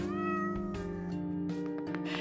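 A cat meows repeatedly in the video game OneShot, the calls sitting over a steady, sustained musical backdrop at moderate loudness.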